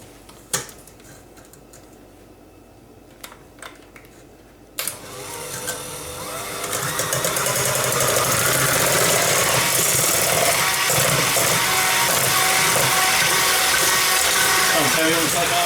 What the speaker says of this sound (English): you've got to whisk the eggs and the caster sugar together so it's nice and frothy